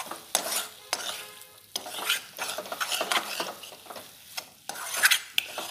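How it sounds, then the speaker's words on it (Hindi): Indian masala fries gently on very low heat in a pan, with close, irregular scraping strokes of a stirring utensil over a soft, quiet sizzle. "और अब हम इसे बिल्कुल मंद आंच पर 5 मिनट के लिए भूनेंगे"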